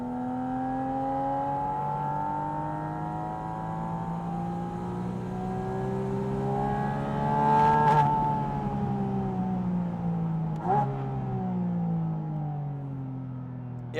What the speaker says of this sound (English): Let me try to squeeze one more pull out of it before we leave